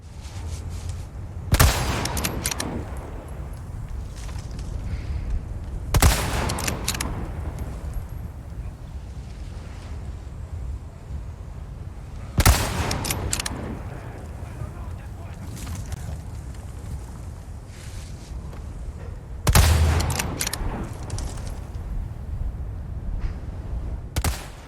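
Four widely spaced, loud rifle shots ring out over a low ambient rumble in Resident Evil 4 Remake, each a sharp blast followed by a short decay, fired one at a time as headshots.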